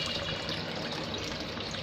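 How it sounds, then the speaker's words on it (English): A hydroponic garden pump that runs around the clock pushes water through plastic pipes, making a faint, steady wash of flowing and trickling water with no pauses. "that yellow color pump is operative 24 hours, and this green pipe, light green pipe, this is the outlet of the water"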